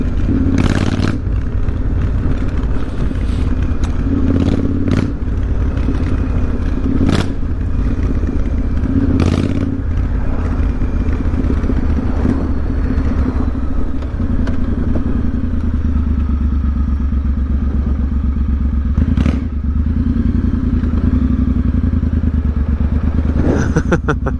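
A Triumph Bonneville motorbike drones steadily while riding through the English countryside, its engine rumble continuous and close, with occasional clattering thumps and bumps from the road over the whole stretch.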